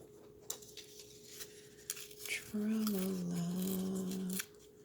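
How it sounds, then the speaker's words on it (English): Paper being torn by hand during a journal craft project, short ripping bursts followed by a longer sustained tear, with a voice humming or talking over part of it. "Okay, so I am going to tear this."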